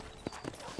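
Horse hooves clop in the video game Red Dead Redemption, three soft, evenly spaced thuds at a walking pace, faint beneath a steady background wash.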